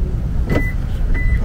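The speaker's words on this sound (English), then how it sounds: "Okay, lock the car." Car locking close by: a short mechanical thunk and electronic chirp over low outdoor traffic rumble, followed by a second faint chirp.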